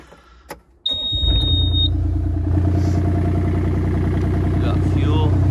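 Digging machines being fired up for a shop build, one engine catching after a brief whir and settling into a loud, steady, close-up running rumble.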